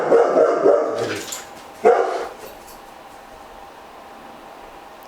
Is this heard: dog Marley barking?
yes